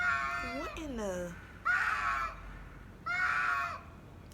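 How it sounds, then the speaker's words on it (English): A cat gives an unusual, harsh yowling cry during a fight involving a duck, starting with a long wavering wail and followed by two shorter loud yowls, close and prominent over background noise. "that's a whole nother tone of a cat you don't normally hear"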